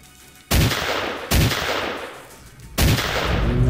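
Gunfire in the shooter game STALKER Alternative: three sharp, loud shots or short bursts, each leaving a sustained noisy tail, spaced irregularly with no speech.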